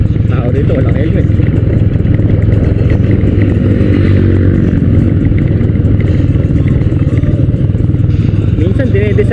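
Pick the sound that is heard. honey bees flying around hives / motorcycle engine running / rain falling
motorcycle engine running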